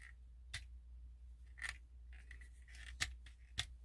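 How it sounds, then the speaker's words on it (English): Soft ratchet joints on the knees of a Wei Jiang Titans Return Hardhead Transformers figure, a few faint, isolated close clicks spread apart in a quiet room. "they add some like soft ratchet joints, little notches on the joint, so you get like a slight ratchet as you go"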